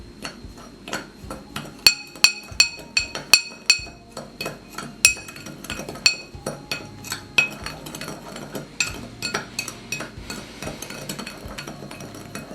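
Spoon clinking against a bowl while caster sugar and cinnamon powder are mixed, a fast run of sharp metallic taps and scrapes, close and fairly loud, with no voices.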